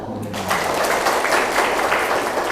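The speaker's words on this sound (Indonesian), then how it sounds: "Tepuk tangan Pak." Applause from a large gathering of community members at a land agency hearing, a thick continuous clatter of many hands clapping close and loud, following a brief bit of speech at the start.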